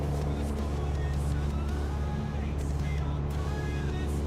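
Flight simulator aircraft engine at full throttle for takeoff from Big Bear City, a steady loud drone with constant low hum and hiss, filling the whole stretch evenly.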